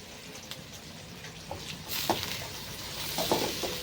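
Carrots frying in oil in a pan with a bay leaf for fried rice, a soft sizzle that swells louder midway, with occasional scraping stirs and light taps of the utensil, close up and without talk.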